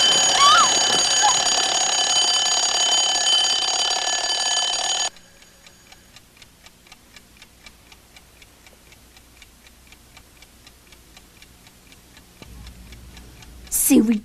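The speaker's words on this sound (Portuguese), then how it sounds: "acorda quando o despertador toca" An alarm clock rings loudly for about five seconds in the 1984 horror film A Nightmare on Elm Street, then stops, leaving a steady ticking. A brief voice breaks in at the very end.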